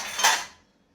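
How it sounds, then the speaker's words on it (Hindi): Metal utensils and pots are scrubbed and washed by hand, a single short bright clatter of metal against metal that quickly fades into quiet. "मैं बर्तन रगड़ रही हूँ"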